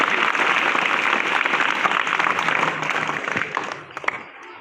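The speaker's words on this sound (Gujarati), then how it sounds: "જોરદાર તાળીઓ" A school crowd at a 15 August Independence Day event in Mandvi applauds, a dense, steady burst of clapping from many hands that thins out and fades toward the end, with a few last scattered claps.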